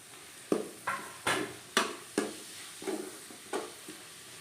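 Shallots and chopped onions frying in a pan, with about seven distinct bursts of sizzle as the pieces are stirred and tossed, each swelling and fading over a steady low crackle, close and moderately loud with no talk.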